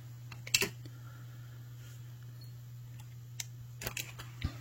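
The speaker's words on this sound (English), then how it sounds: "So now I'm going to take my cutters, cut off my extra wire." Wire cutters snipping excess beading wire: a couple of sharp, faint clicks near the start, then a few small isolated snaps over a quiet, steady hum.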